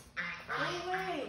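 Farm geese honking close by from inside or near a barn with turkeys, a few loud nasal calls in quick succession.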